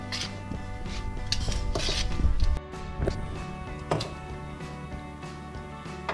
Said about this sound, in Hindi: मैं इसे अपने हाथ से फेंट रही हूँ